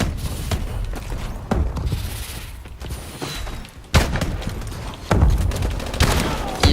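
Gunfire and grenade blasts ring out in Call of Duty: Advanced Warfare, with loud bursts of shots and heavy booms coming close together in dense, chaotic combat.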